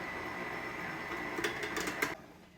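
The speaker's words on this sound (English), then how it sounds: "Turn this back on and I'm gonna drop a cup of sugar into this mixer." An electric stand mixer whirs steadily while mixing batter for sourdough banana bread with sugar added, a fairly quiet mechanical hum with a few clattering knocks before it winds down at the end.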